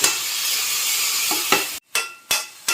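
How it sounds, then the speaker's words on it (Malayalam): Boiled colocasia stems being stirred in a pan with a steady sizzle, followed by a few sharp scraping and knocking strokes of a spoon against the pan near the end. "ചേമ്പുംതാള് ചെറിയ കഷ്ണങ്ങളായിട്ട് മുറിച്ചതും കൂടി ഇട്ട് ഇളക്കി അടച്ചിട്ടൊന്ന് വേവിക്കാം"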